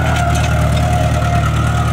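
An old tractor engine idles close by, its low rhythmic chugging holding even and loud throughout with a droning hum above it.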